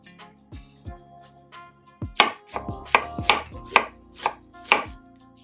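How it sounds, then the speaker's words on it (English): A knife slices through onions on a cutting board, a few soft strokes at first, then a quick run of crisp, close chopping taps at an uneven rhythm. "just slice them up like that."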